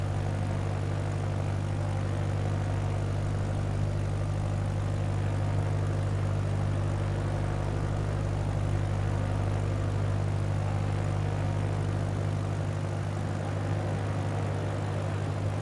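A small propeller plane taxiing in Flight Simulator 2020 near Wright City, Missouri, its engine droning steadily and loudly for the whole stretch with an even buzzing tone and no talk.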